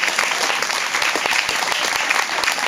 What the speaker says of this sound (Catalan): Un fort aplaudiment per ell.